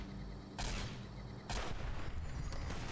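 Rifle fire in Fallout: New Vegas: two sharp, loud shots about a second apart, each cracking through a low background hum.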